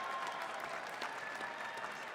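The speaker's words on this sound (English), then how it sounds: "Please join me in a round of applause for the graduates of the Masters of Public Management program." Applause for graduates at a Heinz College hooding and diploma ceremony: a steady wash of clapping from a large audience fills the hall without a break, heard from some distance and fairly quiet.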